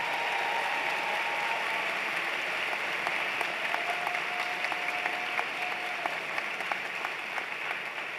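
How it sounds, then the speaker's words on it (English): Audience applause at a university commencement ceremony honoring faculty and staff, steady and sustained throughout with a dense, even texture of many hands clapping in a large hall. "Give a round of applause to our faculty and staff,"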